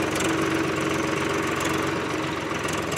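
A tractor engine runs during a ride along a rough farm road near the Singhu Border, giving a steady, close, continuous mechanical rumble with knocking vibration and no talk.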